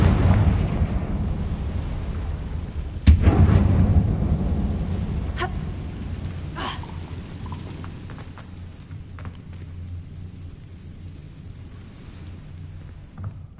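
A Confringo spell blast in Hogwarts Legacy, one deep booming explosion that rolls out into a long low rumble and fades over several seconds, with a few faint crackles after it.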